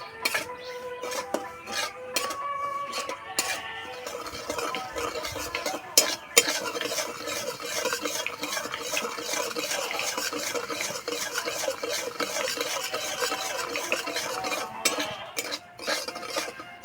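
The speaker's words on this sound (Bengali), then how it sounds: "সুজিটা বেশ লাল লাল করে ভেজে নেব" Semolina is fried and stirred until reddish for a sweet, with constant scraping of a metal spoon against the pan, light clinks and a soft sizzle underneath, close and steady with no talking.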